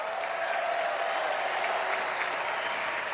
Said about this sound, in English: give Johnny Red a round of applause